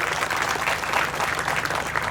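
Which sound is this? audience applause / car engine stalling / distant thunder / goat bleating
audience applause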